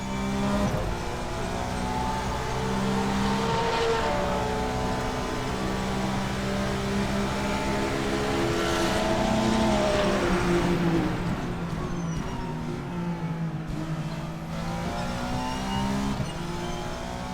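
GT3 race cars roar around a circuit in Assetto Corsa, engines revving steadily through shifting gears, with other cars in a group nearby, loud and sustained with rising and falling pitch.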